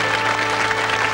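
A studio audience at a 1985 British music-hall game show claps steadily and densely, a loud, even wash of applause with no gaps, carrying over faint background music.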